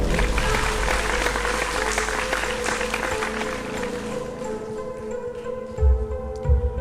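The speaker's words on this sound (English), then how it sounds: "please give a big round of applause for Helen Henny" A studio audience at a singing competition show claps in a dense, sustained wash of applause that holds steady before tapering slightly toward the end.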